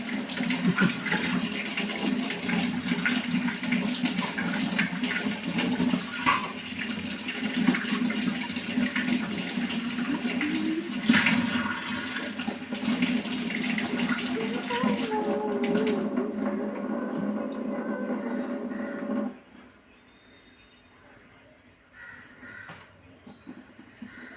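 Tap water runs steadily while a brass oil lamp is washed, a broad splashing rush that stops abruptly near the end, leaving quieter dripping and faint room sounds.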